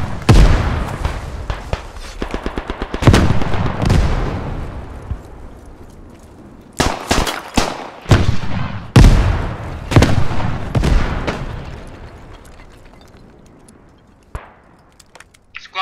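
Heavy gunfire and artillery cannon blasts in a World War I video game boom repeatedly, sharp cracks and bursts clustered in volleys, loud and close, fading toward the end.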